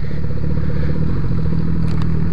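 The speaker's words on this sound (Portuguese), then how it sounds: "Vamos ver para onde a gente se dirige com a moto." Motorcycle riding into the grounds of a motorcycle meet in Macaé, a loud close engine idling and rumbling steadily with a rattly low throb and a couple of brief clicks near the end.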